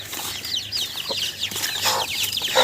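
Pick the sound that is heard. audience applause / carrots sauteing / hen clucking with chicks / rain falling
hen clucking with chicks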